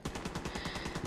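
Rapid automatic gunfire in the video game Tom Clancy's The Division 2, a steady burst of about a dozen evenly spaced shots at moderate loudness.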